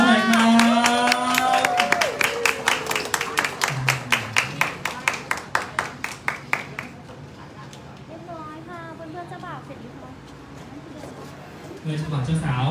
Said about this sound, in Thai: ขอเสียงปรบมือต้อนรับเจ้าบ่าวเจ้าสาวหน่อยครับ